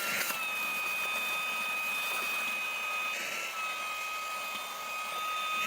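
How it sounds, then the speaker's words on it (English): Portable cordless car vacuum cleaner running steadily, a constant close airy motor whine with a high steady tone throughout, no voices. "So whenever I need it, I just unplug it, pop in the thing, press and hold, and it's ready to vacuum."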